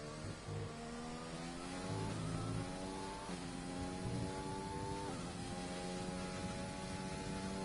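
A video game F1 car screams through a qualifying hot lap, its high engine note climbing through gears with repeated upshift drops and sustained revving, loud and close with no voices.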